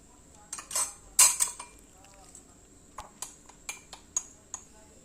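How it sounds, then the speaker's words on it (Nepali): A spoon clinks and scrapes against a metal pot while milk and sweet corn kheer is stirred. The taps come in an irregular rhythm, close and fairly crisp, over a quiet background. "अब चाहिँ हामीले चलाउँदै पकाउनु पर्छ"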